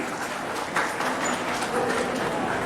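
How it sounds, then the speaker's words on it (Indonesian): Audience applause at a public service mall gathering in Malang, a dense, steady wash of many hands clapping that holds at an even level throughout. "Boleh saya dengar tepuk tangan luar biasa Bapak dan juga Ibu?"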